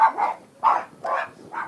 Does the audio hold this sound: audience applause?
no